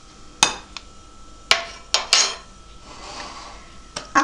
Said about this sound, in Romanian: Amestecăm ușor.